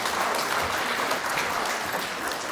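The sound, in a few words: applause at volunteer luncheon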